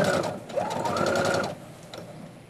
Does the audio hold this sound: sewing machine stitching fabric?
yes